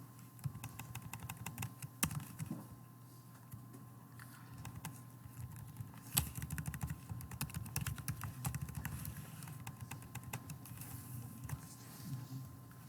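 Fingers type C code on a computer keyboard, a quiet, uneven run of close key clicks with a few sharper taps, over a low steady hum and no talk.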